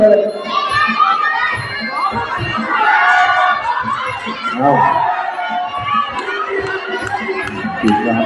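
Spectators cheer and shout at a Muay Thai bout in Thailand, a dense, loud crowd roar with high excited voices rising and falling throughout, swelling in waves over scattered nearby talking.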